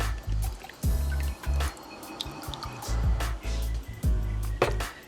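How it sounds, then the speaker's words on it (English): Jamaican Choice canned coconut milk poured into a pan while making spicy fried fish fillet, heard close up as a series of thick, gulping glugs and splashes in uneven bursts with brief pauses, alone with no talk. "we're just going to add in some of our coconut milk"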